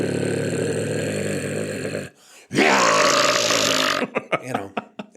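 A voice imitates a synthesizer-like belch, a long buzzing, tonal eructation held for two seconds, then a second louder, gravelly burst, followed by short choppy vocal bursts, all close and loud.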